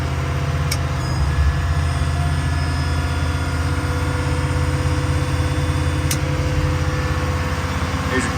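The 6.7 diesel engine of a 2011 Ford F-550 mechanics crane truck is raised to a higher idle to run its generator welder and compressor unit, a steady, loud, droning rumble throughout with a few faint clicks.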